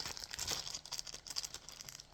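A crinkly plastic slime package is opened nearby, giving quiet bursts of crinkling and tearing that come in short, uneven handfuls.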